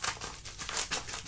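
Scissors snipping into a package of sports cards, a quick series of crinkly plastic cuts and rustles at close range, continuous and fairly quiet with no talking.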